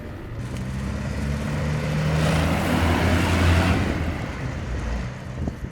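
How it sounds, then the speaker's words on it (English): A hybrid ATV with a diesel generator drives past outdoors, a broad engine and wind rumble swelling to a peak midway and then fading, with no talk. "Now you can compare the sound of the ATV driving with the diesel generator and the quiet mode"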